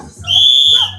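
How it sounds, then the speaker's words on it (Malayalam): A referee's whistle starts a village game during Onam festivities with one loud, steady shrill blast of about half a second, close to the microphone, with brief voices just before and after. "റെഫറി വിസിൽ കൊടുക്കേണ്ടതാണ്"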